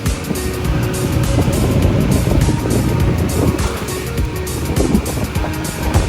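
A Honda CBR 150 motorcycle rides around a housing complex, its engine a steady close drone mixed with heavy wind rush and road noise that stays fairly constant throughout.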